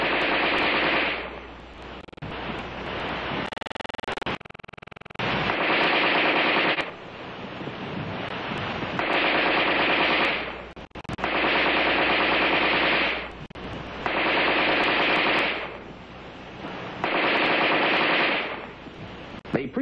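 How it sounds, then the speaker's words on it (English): AR-10 rifle in rapid automatic fire using preloaded magazines, firing NATO ammunition: loud sustained bursts of gunfire in several long strings separated by brief pauses for magazine changes. "The rifleman fired 100 rounds of NATO ammunition in 30 seconds."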